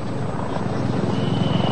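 A police patrol helicopter's rotor thumps in a rapid, steady pulse with an engine drone, loud and continuous, with no voices, during the Sarinah bombing and shootout in Jakarta.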